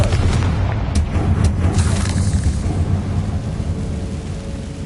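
A Confringo explosive spell in the video game Hogwarts Legacy goes off as a loud, close, rumbling boom that rolls on and slowly fades over several seconds.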